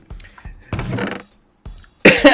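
Several sharp coughs straight into a microphone, loud and close, in uneven bursts with short pauses between them.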